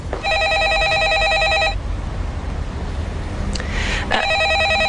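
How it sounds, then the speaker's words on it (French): A telephone rings in a domestic setting with two bursts of an electronic warbling ring, close and clear, separated by a short gap, with no one speaking. "il y a ton téléphone qui sonne."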